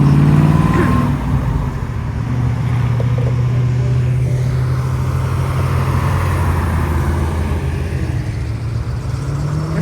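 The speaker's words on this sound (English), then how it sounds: "This is another Corvette, right? That's a Corvette." Vintage cars, including Corvettes, roll past in a Route 66 centennial parade in Wildwood, giving a continuous low engine rumble and road noise that stays fairly close and even throughout.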